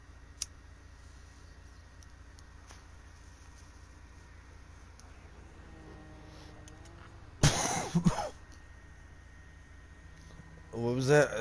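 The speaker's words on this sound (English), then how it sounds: "What was that? I coughed." A single person's cough during a GTA V freemode gaming session, sounding as a brief loud burst that stands out over quiet game ambience. Another harsh burst follows near the end.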